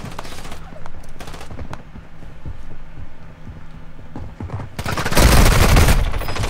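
Rapid automatic gunfire from the Call of Duty: Warzone Mobile game, with sharp bursts early, scattered shots and thumps through the middle, and a loud sustained barrage near the end.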